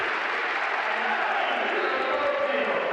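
A raucous basketball arena crowd at the Palladosa cheers and claps loudly during a Virtus versus Valencia EuroCup game, a continuous rowdy roar with applause throughout.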